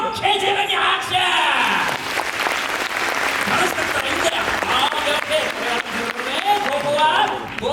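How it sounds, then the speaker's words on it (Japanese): A crowd of guests claps and cheers at a live rock-and-roll monster show at a theme park, loud and busy throughout, with voices and shouts mixed into the applause. "十分に拍手。"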